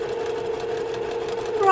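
A sewing machine pulls stitches along a quilted flying geese block, a steady close mechanical whir running through the short stretch and rising slightly at the end.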